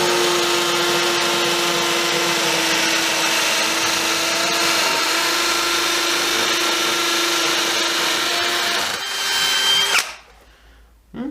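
Ryobi R18PD7 cordless drill with a 14mm bit boring into brick, a loud, steady, high motor whine that grinds on for about ten seconds and then cuts off abruptly into quiet.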